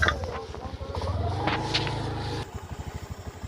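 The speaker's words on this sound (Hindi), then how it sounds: "ये हम ऐसी रास्ता पे किसी तरह स्कूटर लेके निकल रहे हैं" A scooter ridden along a rough, brick-strewn path near an old fort in Ramnagar, India, its small engine chugging in a steady low pulse close by, with voices talking over it in the first half.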